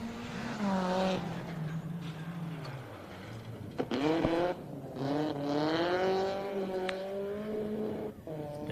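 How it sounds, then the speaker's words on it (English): Supercharged Toyota AE86 rally car on a gravel special stage of the Southern Lights Rally, engine revving up and down through gear changes, fairly close and loud, with some tire noise and no talking. "Supercharged AE86."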